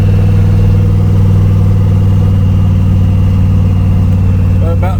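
Chevy C20 truck cruising at steady highway speed, a loud continuous low engine drone with constant road rumble inside the cab and no change in pitch throughout.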